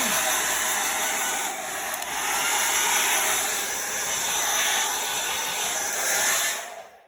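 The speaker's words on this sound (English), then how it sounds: "I'll just blow dry the area here." A hair dryer blows continuously at close range, a loud steady whoosh used to dry a chalk-paint craft door tag, running alone before cutting off at the very end.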